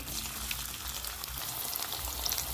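Onion, tomato and green chillies fry in hot mustard oil in a kadai, giving a steady, close sizzle with faint crackles throughout and no talking.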